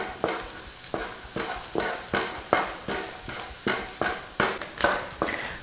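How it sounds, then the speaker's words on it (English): Steady frying sizzle of lamb in a pan with repeated sharp pops and stirring scrapes, close up, about once or twice a second. "with the sizzling and the popping of the lamb all done"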